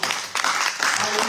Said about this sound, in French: On acclame pour notre frère.